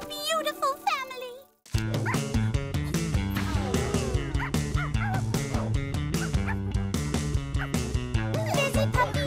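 A cartoon puppy in an animated children's show yips and barks in a quick, steady, rhythmic pattern over bouncy background music, after a brief high whimpering whine at the start.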